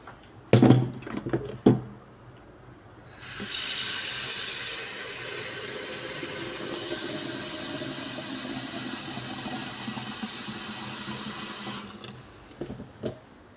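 Water pours steadily from a tap into a cooking pot for several seconds, a loud continuous hissing rush that starts abruptly and then cuts off, with faint clatter before and after.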